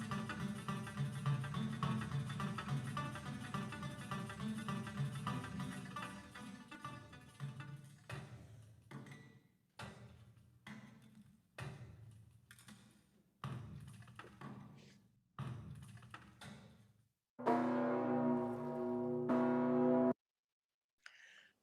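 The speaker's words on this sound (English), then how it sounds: "what you just heard now is the beginnings of a wonderfully huge and amazing bell called the Peace Bell in Rovereto, Italy" Huge Peace Bell of Rovereto, Italy, sounding as a deep sustained tone that decays, followed by a series of separate struck hits with silences between them and a bright, loud ringing burst near the end.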